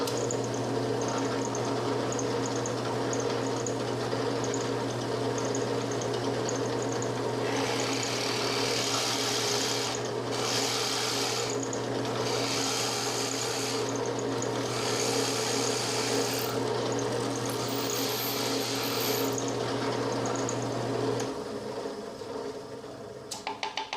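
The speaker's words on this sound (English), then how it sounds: "Let me show you how I do that on the drill press." A drill press bores plug cutters into a piece of scrap walnut, its steady motor drone running throughout with several rising bursts of cutting noise before the machine winds down near the end.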